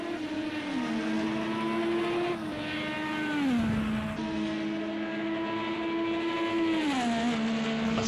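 A KVSH Racing Chevrolet IndyCar screams through a qualifying lap on the Long Beach street circuit, its engine note steady and high, dropping in pitch several times as the driver shifts; a continuous loud drone with no talk.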